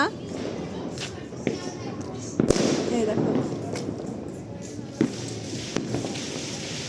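Fireworks and firecrackers burst all around during a New Year celebration, with sharp scattered bangs and pops near and far over a crackling background, and voices murmur faintly throughout.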